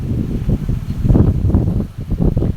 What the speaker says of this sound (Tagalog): lalabas na tayo guys at malakas na ang hangin